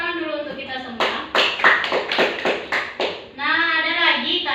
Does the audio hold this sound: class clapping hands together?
yes